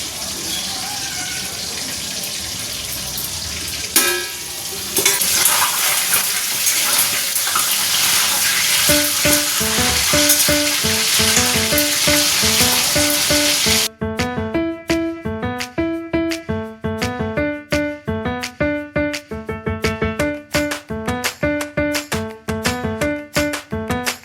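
Food sizzles in a hot frying pan, a loud steady hiss for about fourteen seconds, after which it cuts to a bright rhythmic music track with no talk.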